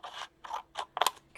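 Scissors snip four times in quick succession, close and fairly quiet, cutting material while making a vintage entomology craft piece, with short gaps between the crisp blade strokes.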